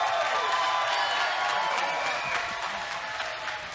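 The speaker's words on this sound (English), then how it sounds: "let's have a round of applause for these 2 warriors" Crowd applause for two boxers after a fight, a dense, sustained clapping that fills the venue and slowly tapers off, mixed with faint cheering and crowd murmur.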